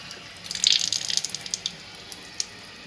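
Water runs through a K8 water ionizer and spills out, a soft continuous trickle with a brief splashy burst early on, then faint drips and patters fading away, close and fairly quiet.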